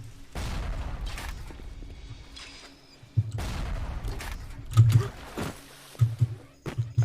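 A security camera turret fires at the player in BioShock: several separate bursts of gunfire, loud and close, broken by short quiet gaps, with heavier booms mixed in.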